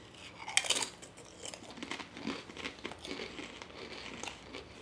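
Cuban sandwich flavor Lay's potato chips crunch as they are chewed. A sharp crinkle comes near the start, followed by steady, close crunching and chewing with no talk.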